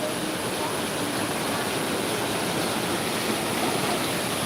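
A swollen stream rushes with rising water during rain, a loud, steady, unbroken roar of flowing water filling the whole stretch with no voices over it.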